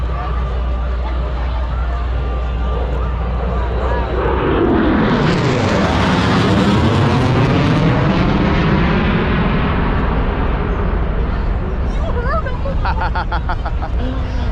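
A loud, steady engine roar of a Flying Fisk airplane arriving and landing at Oshkosh 2024, with a sweeping, wavering propeller tone that rises and falls, continuous and close throughout.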